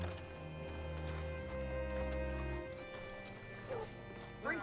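Horse hooves clip-clop from the video game Red Dead Redemption 2, a faint uneven clatter of steps under a low hum and brief game sounds.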